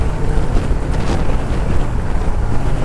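Honda Shadow 750 motorcycle cruising on the road at speed, a loud steady rumble buried under heavy rushing wind noise on the microphone, with no talk.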